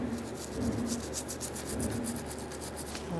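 Rapid rhythmic rubbing scrubs clean the lip of a rear brake caliper on a 2014-2018 Subaru Forester, close and continuous for a few seconds.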